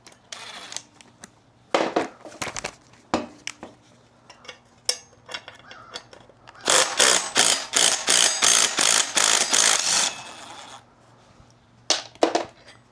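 Socket ratchet working the sprocket nuts off a Honda XR200R, bursts of rapid clicking pawl strokes with a long fast run in the middle, close and crisp, separated by quiet pauses and small metal clinks of nuts and washers.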